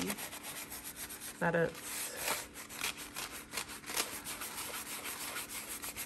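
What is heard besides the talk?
gently rubbing paper to remove excess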